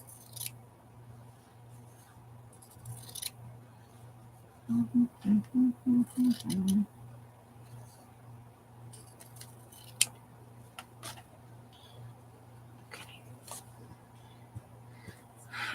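Scissors cut through washi tape in a quick run of about six crisp snips, close by in an otherwise quiet room.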